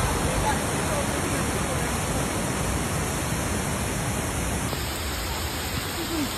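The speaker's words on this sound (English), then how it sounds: "A slow-moving storm system brought heavy rain across the state of New York on Sunday evening." Heavy rain during a slow-moving storm over flooded New York streets, a dense, steady hiss of downpour and running water filling the whole stretch at even loudness.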